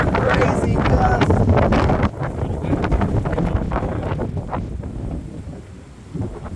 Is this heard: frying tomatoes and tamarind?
no